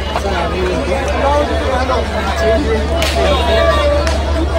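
A dense crowd at the Dnyaneshwar Maharaj palkhi procession fills the air with a continuous babble of many overlapping voices and a low rumble, loud and steady throughout, with some nearby chatter mixed in.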